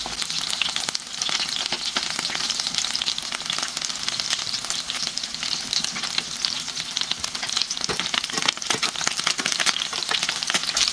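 Chicken breast and vegetables frying in a pan: continuous bright sizzling and crackling oil with scattered pops, steady and close, without speech.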